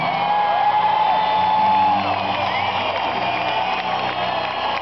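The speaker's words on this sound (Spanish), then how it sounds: "Un aplauso." Audience at a concert in Colombia applauding and cheering, a loud continuous wash of clapping with whistles and shouts rising over it, slightly easing after the first two seconds.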